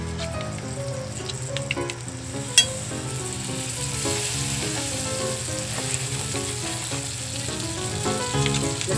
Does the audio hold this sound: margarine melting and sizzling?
yes